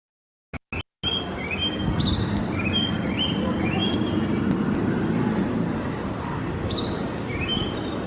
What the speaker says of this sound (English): So I will play it for you. So you will see it whistles and then there is a chup chup.